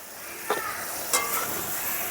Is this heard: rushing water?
no